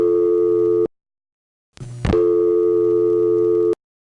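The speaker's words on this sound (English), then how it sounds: "did you hear the way my dial tone came on? There was an extra sort of relay sound there." A telephone dial tone hums steadily, cuts to silence, then returns after a short click-and-clunk of relay switching. The tone is loud, close and even, with no voices.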